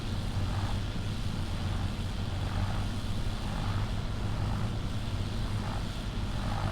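Tractor engine from Farming Simulator 25, a steady droning hum with a broad rumbling body running continuously throughout, fairly loud and unbroken, with no voices over it.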